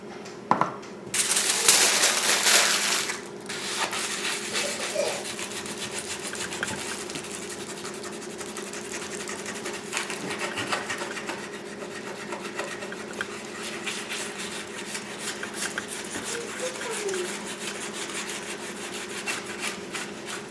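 Tinfoil rubs against a rusty sword blade in a continuous gritty scraping that stays steady for a long stretch, with a louder burst of rasping near the start over a low background hum.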